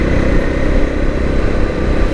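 A Bajaj Dominar 250 motorcycle engine drones loudly and close while downshifting on a test ride, a continuous low rumble with steady wind noise.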